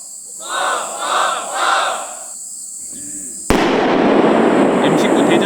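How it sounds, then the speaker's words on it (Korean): An M19 anti-tank mine detonates during military demolition training: a sudden loud blast hits after a stretch of distant voices, then a sustained roar of debris and rumble carries on to the end. "M19 대전차 지뢰가 폭파되자 연기와 파편이 순식간에 솟구쳐 오릅니다."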